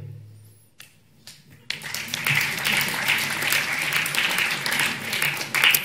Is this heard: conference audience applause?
yes